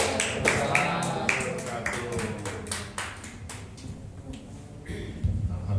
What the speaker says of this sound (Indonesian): tepuk tangan dong sekali lagi buat Pak Haji Peri dan Bu Hajah Dewi